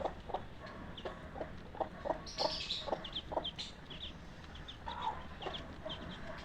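A mother hen clucks repeatedly in short, agitated bursts, with higher chick-like peeps scattered between, nearby in a quiet outdoor setting.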